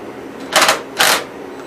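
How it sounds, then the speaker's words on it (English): Cordless impact wrench on a half-inch bolt at the steering wheel of a 1974 Gravely 812 tractor, two short, loud bursts of rattling hammering about half a second apart, close by, with no talk. "get the impact, and we'll take this bolt loose for the steering wheel."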